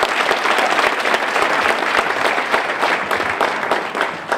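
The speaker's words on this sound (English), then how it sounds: "give them a tremendous round of applause" Loud, sustained applause from a standing audience at a motivational speaking event, dense clapping filling the whole stretch without pause and with no voices on top.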